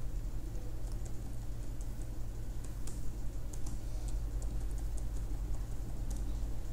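Rapid, irregular clicks of a computer keyboard as an email address is typed, close and steady over a constant low electrical hum, with no voices.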